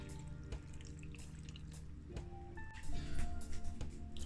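About two cups of water pour into a container holding cucumber and lemon for a juice, a soft, steady splashing close by, with a few small clinks and a louder gush near the end.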